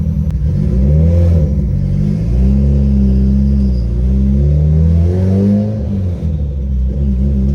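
A turbocharged 1.8 Chevy Cruze with all-wheel drive accelerating hard at full power, its engine droning loudly from inside with rising and falling revs through gear changes, a continuous deep rumble.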